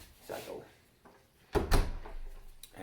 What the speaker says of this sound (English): my dog is smart and opens the door